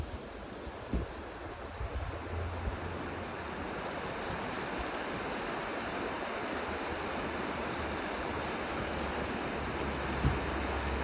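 River at Lynmouth rushing steadily, a dense continuous broadband roar of flowing water with light wind noise and a couple of faint knocks.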